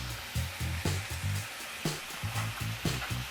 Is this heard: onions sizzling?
yes